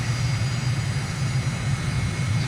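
Aircraft engine in a flight simulator game drones steadily at dusk over Uganda, a constant low hum with an even roar above it, continuous and close, with no other sounds.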